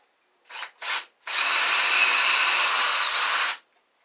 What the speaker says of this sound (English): Okay, so I got my hole drilled